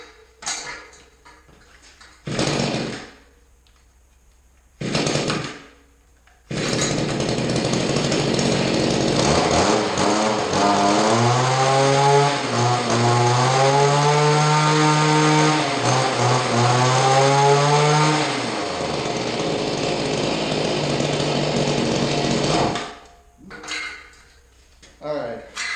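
A Mantis rototiller's small two-stroke engine fitted with a HIPA parts carburetor and tune-up kit: a couple of short sputtering pull-start bursts, then it catches and runs loud and buzzy, revving up and down before cutting out, followed by more brief pulls.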